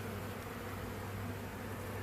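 Honeybees come and go at an old hive in a shed, making a faint, continuous buzzing hum close by with no voices.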